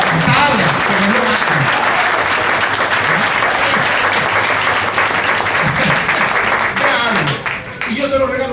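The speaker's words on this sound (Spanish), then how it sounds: "un aplauso para los servidores" A church congregation applauds its servers, steady loud clapping filling the room throughout with a few voices mixed in, thinning slightly near the end.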